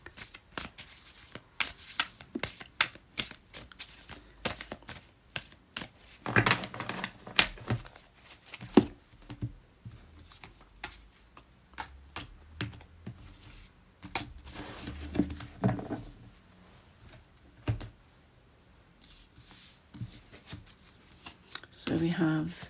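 Tarot cards from a deck are shuffled over and over, giving bursts of crisp riffling and flicking, some louder and some softer, with pauses between them and a person talking now and then.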